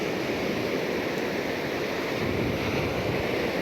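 Ocean waves break on a steep beach at high tide, making a continuous rushing surf roar with wind noise and no distinct individual crashes.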